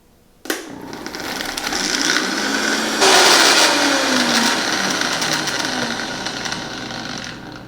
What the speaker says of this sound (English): Let's give this a blend.